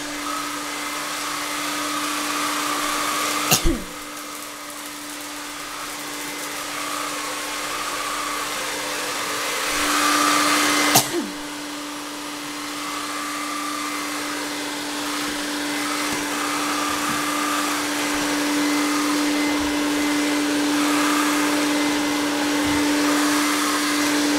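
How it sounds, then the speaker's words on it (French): An Evertop 3-in-1 cordless vacuum cleaner running on a floor with scattered debris, a steady loud motor whine with a constant tone, two sharp clicks early on and a slight rise in pitch near the end. "j'ai mis des trucs par terre pour montrer comment ça aspire"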